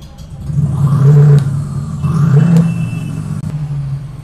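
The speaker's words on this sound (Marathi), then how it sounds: "ॲक्सिलेटर जर केला तरी पण तो साऊंड येईल, जसं आपण गाडी चालवतो तसं साऊंड येईल" A synthetic engine-like hum from a 2025 Komaki Ranger electric cruiser bike rises and falls twice as it accelerates, steady and close, with no talking.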